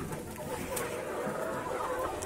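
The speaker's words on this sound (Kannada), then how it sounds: "ನೋಡಿ ಇಷ್ಟು ಕೋಳಿ ಇದೆ" Desi country chickens kept for eggs cluck and murmur in a farm shed, soft scattered calls overlapping in a quiet, continuous background.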